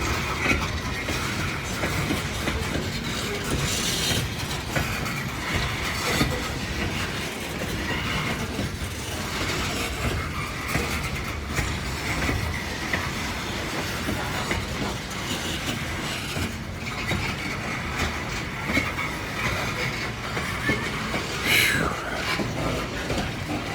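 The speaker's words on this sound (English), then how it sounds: "If you like coal trains, you're definitely getting your money's worth today." A long coal train rolls past at Kenova, West Virginia, its wagons producing a continuous rumble and clickety-clack with occasional wheel squeals, loud and close throughout.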